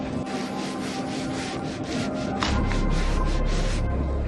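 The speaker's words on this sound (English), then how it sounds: "it says to wipe it with a different microfiber towel, but I'm just going to be using the same one" A microfiber towel wiping restorer over exterior trim on a 986 Porsche Boxster S, a close series of brisk rhythmic rubbing strokes with a faint background hum.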